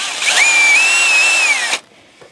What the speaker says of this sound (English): see, like that, drill it out.